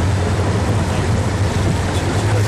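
A large offshore vessel moves at sea, with a constant wash of waves and wind rushing past the microphone and a low rumble underneath, no pauses.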